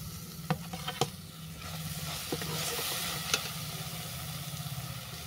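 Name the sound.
grated coconut stirred into caramel in a pan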